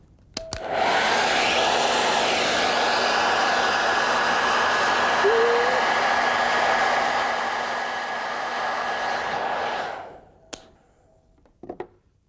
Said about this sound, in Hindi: अब इस हेयर ड्रायर को देखिए, ये सिर्फ बाल सुखाने के काम आता है नहीं